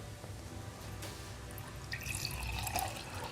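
Tap water pours into a container holding sesame oil, a steady splashing stream that grows brighter and fuller midway through, with no voices.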